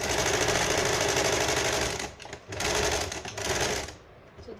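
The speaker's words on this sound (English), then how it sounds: "Likewise you stitch the other sleeve also." A sewing machine stitches a shirt sleeve in steady rapid bursts, whirring loudly and continuously before pausing briefly twice and starting again, then slowing and stopping.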